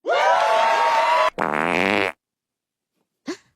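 A long, loud cartoon fart with a buzzing, wavering tone that breaks briefly into a second blast, followed by silence and a short squeaky puff at the end.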